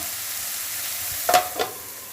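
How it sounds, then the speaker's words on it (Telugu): Ridge gourd pieces sizzling in a pan are stirred with a spoon, giving two quick scraping strokes over a steady low fry. "తిప్పుకుంటున్నానండి బీరకాయ ముక్కల్ని. ఇలా తిప్పుకుంటే అంతా కలుస్తుంది అనమాట"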